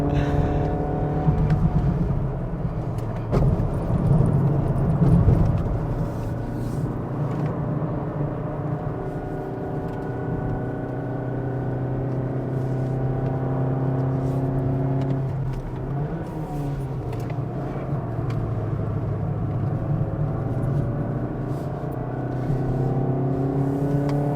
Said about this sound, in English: I like the way this SUV handles.